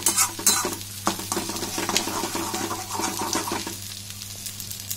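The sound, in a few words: stirring egg bhujia with potatoes in a pan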